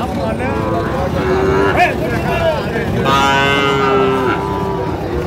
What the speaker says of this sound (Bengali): শাহিওয়াল ষাঁড়।